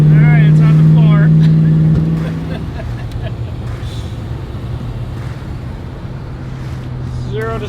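A 1966 Chevy Impala with a new 350 small-block V8 pulls at full throttle, its deep engine drone loud and close, rising briefly before settling into a steady roaring pull as the car accelerates.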